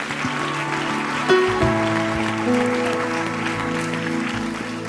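A church congregation applauds to welcome the pastor back. The clapping is a steady wash of moderate loudness, with sustained musical tones underneath.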